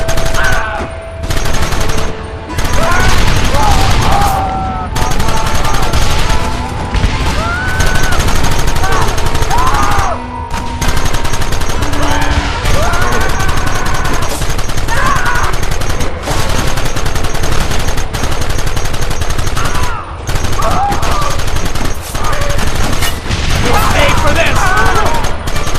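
A sustained gunfight in the Western game Red Dead Redemption, with rapid, overlapping rifle and pistol shots in bursts nearly throughout, and shouting voices mixed in.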